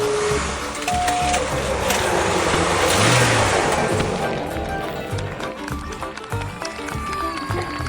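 A race car engine roars and revs loudly nearby, then fades into a lower rumble as it pulls away.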